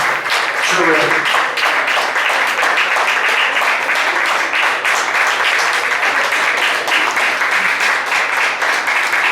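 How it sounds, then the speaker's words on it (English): A college homecoming hypnosis show audience gives a big round of applause for the volunteers, steady dense clapping with cheering voices mixed in, sustained and loud throughout. "Give your friends a big round of applause."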